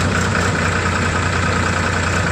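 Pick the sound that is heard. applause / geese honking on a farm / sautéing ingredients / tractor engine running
tractor engine running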